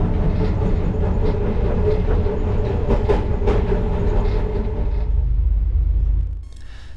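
An Egyptian tourist sleeper train runs from Cairo to Luxor with a steady, loud rolling rumble and rattling carriage noise throughout, fading to a quieter hum in the final second.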